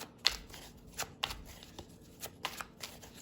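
Oracle cards are shuffled and pulled from a deck in a quiet room, giving soft, quick riffling flicks and taps spaced irregularly at close range.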